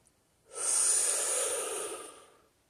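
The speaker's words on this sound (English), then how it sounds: "Let us take a deep breath in, breathing in that pure divine essence." A single deep inhaled breath, slow and airy, drawn in clearly and close for about two seconds during a guided meditation, with no talking.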